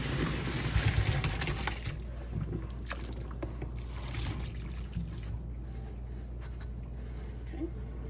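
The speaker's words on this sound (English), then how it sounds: "we're gonna strain the shrimp" Boiled shrimp being strained, with a loud splash and rush of water at the start that settles into a steady, softer trickling wash.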